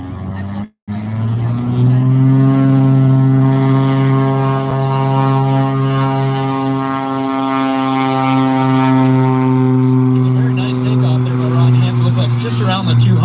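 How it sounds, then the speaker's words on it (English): A small propeller plane takes off in Alaska: a steady, loud engine drone with strong harmonic tones holds for over twelve seconds, easing slightly in pitch near the end, after a brief dropout at the start. "Rod Hansen now for his third takeoff."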